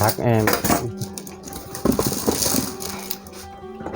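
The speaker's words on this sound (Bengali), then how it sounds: "আমি আপনাদেরকে বাটিটা একটু খুলে দেখাচ্ছি" The bowl and lid of a Miyako stand mixer clatter as they are handled, with metallic clinks and rattles close by. Faint talk runs underneath.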